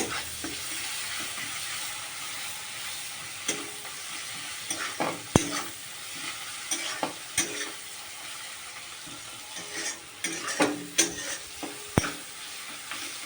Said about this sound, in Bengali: হাফ চামচ হলুদ এখন এটাকে একটু কষাবো